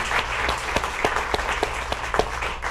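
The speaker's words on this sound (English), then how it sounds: "let's give everybody a warm applause for contributing" Audience at a business leadership panel applauds warmly, a steady wash of clapping with a few sharper individual claps standing out near the front, sustained evenly throughout.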